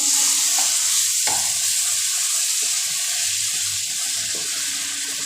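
Red tomatoes and spices frying in a pan while cooking a cauliflower gravy: a steady, bright sizzle close by, broken by a few soft knocks and scrapes of stirring, with no voice.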